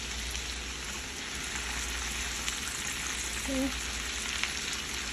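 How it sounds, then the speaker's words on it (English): Scallops sizzle in hot butter in a pan, a steady close crackling hiss running the whole time, with a brief spoken word partway through. "now we're gonna add the scallops back to"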